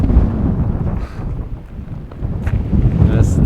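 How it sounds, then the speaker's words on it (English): Strong wind gusts buffet the microphone outdoors in an empty open area, a continuous loud low rumble that eases briefly in the middle and then swells again. "So windy."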